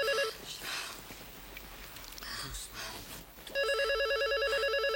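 A telephone rings in a French sitcom setting, with a warbling electronic ring burst at the start and again at the end, loud and close, with quiet room sounds in between.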